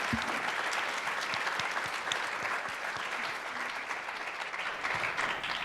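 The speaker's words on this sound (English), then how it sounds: "So can we give Mr. Michaelis one last round of applause?" A conference audience at the WorldLink youth town meeting applauds speaker Arno Michaelis, sustained dense clapping from a large crowd, even and continuous throughout with no talk over it.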